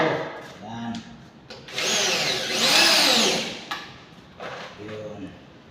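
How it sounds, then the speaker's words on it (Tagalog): Power drill driving a black screw into wood on a carpentry job, with several whining bursts that rise and fall in pitch, the longest near the middle, under intermittent nearby talk. "Tapos lagyan natin tornilyo."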